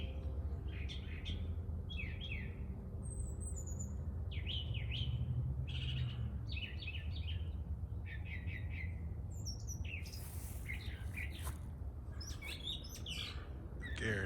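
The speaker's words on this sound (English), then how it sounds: "I guarantee you that's a tiny little finch." Small finch chirping repeatedly in a vegetable garden, a string of short, high, bright calls over a steady low background hum, with several birds' notes overlapping near the microphone.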